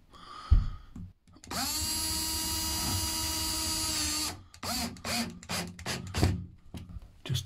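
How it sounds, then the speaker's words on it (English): A power drill whines steadily for a few seconds as it drives a screw into a wooden wall stud, then short bursts of drilling follow with brief pauses between them. "But just keep drilling,"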